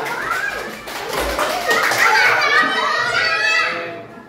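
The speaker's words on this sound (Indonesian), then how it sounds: "Tepuk tangan dulu buat kelompoknya mawar." Children in a classroom clap for a group, a brief burst of scattered hand claps mixed with kids' chatter and voices, close and lively before fading out.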